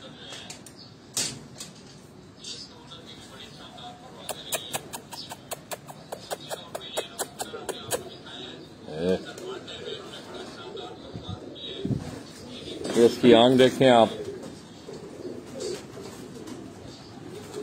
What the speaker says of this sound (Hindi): ये देखें ये गोल्डन कबूतर है